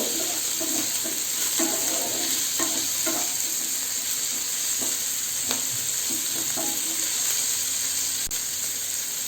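Vegetables frying with salt in a pan for Hakka noodles, a steady loud sizzle running throughout with repeated scraping stir strokes from a spatula, close up and with no talking.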